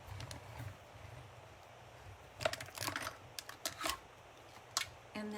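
A hand-crank die-cutting machine feeds paper through, giving a quiet run of clicks and ratcheting clatter that builds into a busier burst of mechanical rattles near the end.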